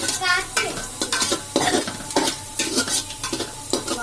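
Onions fry in a pressure cooker with an active sizzle under repeated stirring, the spoon clinking and scraping against the metal pot at close range.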